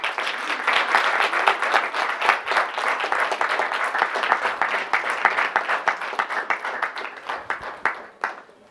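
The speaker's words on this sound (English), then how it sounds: "Let's give him a round of applause." An audience claps steadily for several seconds after a talk, dense applause that stays loud and even before tapering off at the end.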